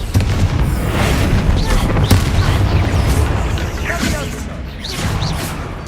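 Booming spell blasts of the Confringo fire spell in Hogwarts Legacy, rumbling explosions rolling one into another with a sharp crack near the middle and voices shouting over the din.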